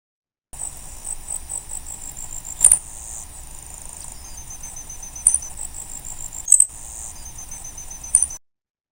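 Bat calls made audible by a detector, with faint rapid ticking and buzzing over a low hiss, broken by four sharper clicks spaced a few seconds apart, heard alone without voices.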